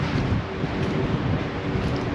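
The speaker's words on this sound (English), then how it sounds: "It's good in the wind because it's like 30 miles an hour wind." Strong wind of about 30 mph roars steadily outdoors at a chicken coop build site, a dense, loud, unbroken rush buffeting the microphone for a couple of seconds.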